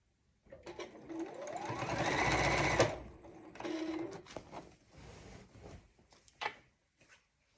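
A sewing machine stitches quilt binding in a fast, steady whir that builds and runs for a couple of seconds, followed by shorter bursts of stitching and a few light clicks.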